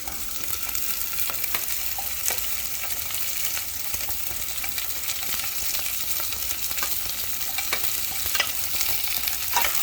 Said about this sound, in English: We just have to fry it a little. So once the onions are done, we are going to then add our green pepper.